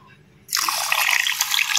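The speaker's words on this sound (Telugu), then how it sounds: "కొంచెం వాటర్ వేస్తాను నేను మునగడానికి" Water is poured into a pan holding amla gooseberries and sugar for murabba, a short, bright, splashing pour that starts abruptly after a quiet moment.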